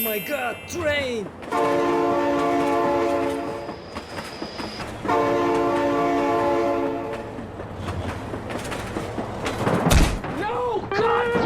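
A train in the BeamNG.drive driving game sounds two long, loud, steady horn blasts over a rumbling, clattering passage of rail cars, and a sharp crash comes near the end, while an excited voice talks over it.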